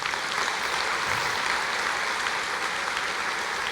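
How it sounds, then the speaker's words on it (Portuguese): A church congregation claps steadily together for several seconds, a dense even wash of applause filling the room with no talking. "Você pode aplaudir o Senhor?"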